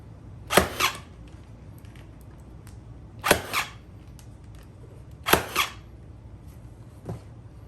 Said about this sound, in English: Here goes first staple.